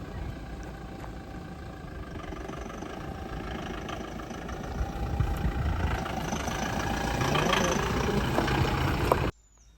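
A vehicle's engine rumbles as it pulls away, a low steady drone that slowly builds in loudness over several seconds before cutting off abruptly.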